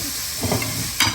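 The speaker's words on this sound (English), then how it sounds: "mix everything." Sri Lankan kottu ingredients with chili flakes being stirred and fried in a pan, a continuous close sizzle broken by scraping stirs and a sharper clatter near the end.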